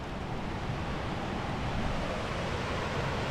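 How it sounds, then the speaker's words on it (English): A mountain creek beside the Rainbow Falls Trail in the Smoky Mountains, a steady broadband rush of flowing water that is quiet and unbroken, with no voices. "We do have a creek running beside of us."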